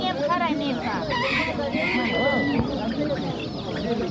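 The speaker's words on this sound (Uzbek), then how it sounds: "Brahma xo'roz." Brahma rooster and chickens at a busy poultry market, clucking and crowing close by in overlapping bursts, with people talking and bargaining throughout.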